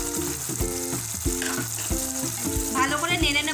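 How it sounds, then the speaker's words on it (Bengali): Coriander leaf paste sizzles in a pan with hilsa fish in a mustard-style curry, giving a steady hiss with soft scraping strokes of stirring. A voice speaks faintly in the background. "এবার আমরা ধনে পাতা বাটাটা দিয়ে দেব,"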